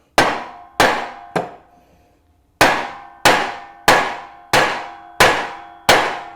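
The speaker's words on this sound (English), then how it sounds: "That's why I'm using a sledgehammer." A sledgehammer flattens the end of a metal piece against a makeshift anvil during a DIY rifle magazine conversion. Nine loud, ringing metallic clangs land at a steady beat, with one short pause after the third strike, and no talking.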